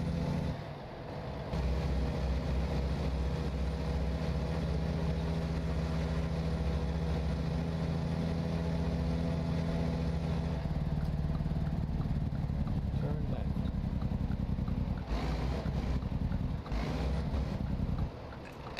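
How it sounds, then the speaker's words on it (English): Volvo truck engine droning steadily in American Truck Simulator, a deep, bassy, continuous rumble with the engine brake giving a puffy low tone, loud and alone for most of the run before cutting off near the end. "that little run there, and the engine brake, it sounds like it's a little more poofy, maybe a touch more bass to it"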